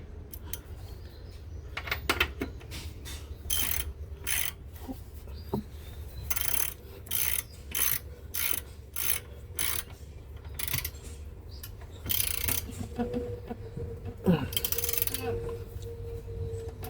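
A FIXTOP 90-tooth ratchet wrench tightening a fastener, producing a series of short rhythmic clicking bursts in steady strokes, moderately close, with faint background noise.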